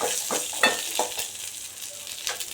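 Brinjal mixture with curry leaves being stirred in a pan, a spoon scraping in short irregular strokes over a light, steady sizzle, close by with no talk.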